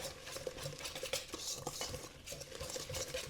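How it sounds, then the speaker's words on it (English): Three eggs stirred into Jiffy cornbread mix in a bowl with a utensil; quick, continuous scraping and clinking of spoon against the bowl, close and moderately quiet, with no talking. "we're going to give this just a quick stir in here"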